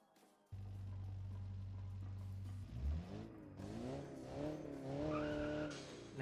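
A 90s Japanese turbocharged sports car engine idles with a low steady drone, then revs up and down through rising and falling harmonics, loud and close, with no talk.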